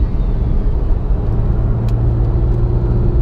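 Porsche GT3 engine held at high revs with both paddles pulled, a steady loud droning rumble with a constant whirring tone, up close and without talk.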